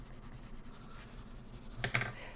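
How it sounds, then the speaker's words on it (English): Soft scratchy strokes of colored pencil on coloring-book paper, light and rhythmic, then a brief louder burst of scraping near the end. "These things are loud. The pencils."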